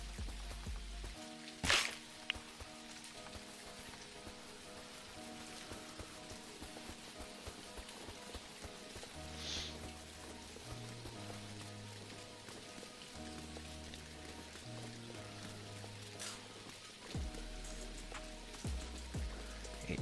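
Soft rainfall in the farming game Dinkum, a quiet continuous patter on surfaces beneath gentle looping game music, with a couple of brief sharper clicks from the game.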